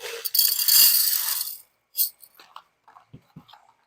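Drainage layer material, likely small pebbles or clay balls, poured into a glass terrarium: a dense rattling pour for about a second and a half, followed by a few scattered small clicks and rattles as pieces settle.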